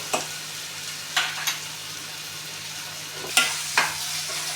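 Onion, ginger, garlic and tomato soften in a pan for spicy sev tamatar sabji, a low steady sizzle broken by several sharp spatula scrapes at irregular intervals, close and quiet.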